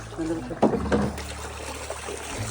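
Hill stream water running into a channel on an Uttarakhand trip makes a close, continuous trickle and splash with a few brief gurgles, under a low steady background.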